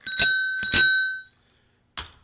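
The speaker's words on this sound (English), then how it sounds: "Let's ring the bell." A ScorBOT ER 4U robot arm rings a bicycle-style bell: two bright, ringing dings close together, then a short pause and a fainter third tap, heard alone and up close.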